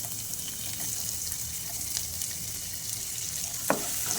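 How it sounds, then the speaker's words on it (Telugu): Chopped onions and three green chillies frying with cumin and mustard seeds in a pan, a steady soft sizzle throughout with a brief stirring scrape near the end, no talk. "ఆనియన్స్ బ్రౌన్ కలర్లో వచ్చేంత వరకు ఉడికించుకోవాలండి"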